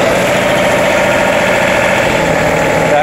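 A John Deere 3038E compact diesel tractor engine idles close by, a loud, steady mechanical drone with a fine knocking texture that holds evenly throughout.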